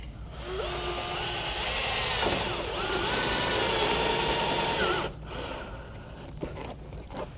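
A power drill drives a screw into a flat section of a metal roof panel beside a chimney, whining steadily for about five seconds with rising pitch, then cutting off abruptly, followed by faint handling sounds.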